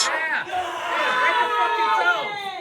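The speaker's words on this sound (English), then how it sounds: "You can hear the crowd back and forth" Crowd at a wrestling match yells and whoops loudly, with overlapping shouted voices rising and falling through the stretch.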